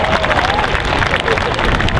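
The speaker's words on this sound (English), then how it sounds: "Ladies and gentlemen, give him a round of applause." Cosplay contest audience at the Orlando Japan Festival applauds a contestant, dense steady clapping and crowd cheering filling the space throughout, loud and continuous with hubbub mixed in.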